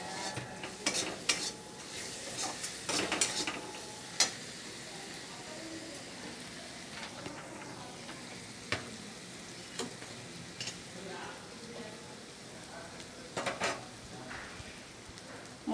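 Spice masala with slit green chillies and Kashmiri chilli fries in a pan for a rohu and potato curry, with irregular scraping stirs over a soft, crackly sizzle.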